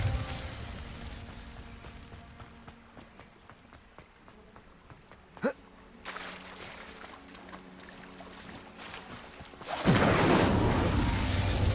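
A fire spell burst cast in the game Hogwarts Legacy, a sudden loud whooshing roar breaking in near the end after quieter ambient game sounds and a brief sharp chime.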